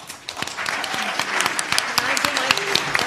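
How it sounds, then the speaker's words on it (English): An audience at a November 2019 League community forum applauds with dense, steady clapping from many hands, close and sustained, with some voices mixed in. "Please help me with a round of applause."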